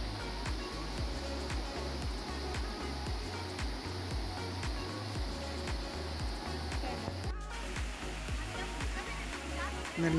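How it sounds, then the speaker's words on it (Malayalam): Ezharakund waterfall pours with force into a well-shaped pool, a constant close rushing roar while a voice talks over it throughout. "അത്ര ഫോഴ്സിലാണ് ആ വെള്ളം വന്ന് വീഴുന്നത്."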